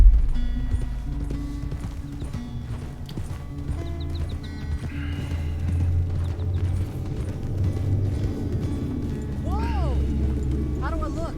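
Galloping horse hooves in a video game, a steady clip-clop rhythm running throughout beneath a music score, with a horse whinny and voices talking over parts of it.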